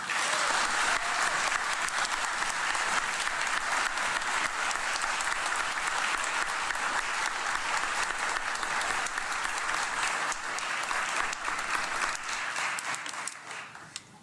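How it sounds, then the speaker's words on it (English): Sustained applause from a large audience at an award ceremony honoring prevention award winners, a dense, even wash of clapping that holds steady before tapering off near the end. "please give the winners of the very first Liz Blanc Exceptional Sapper VA of the Year Award a round of applause."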